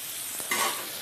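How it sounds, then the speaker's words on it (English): Food frying in hot oil in a pan, giving a steady close hiss and crackle that swells slightly midway, with no talking. "You hear them immediately starting to sizzle."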